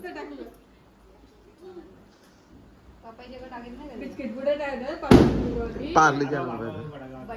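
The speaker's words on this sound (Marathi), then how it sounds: "बर्थडे निमित्त फटाक्या" A single sharp firecracker bang at a birthday celebration cuts through people talking, then the chatter carries on.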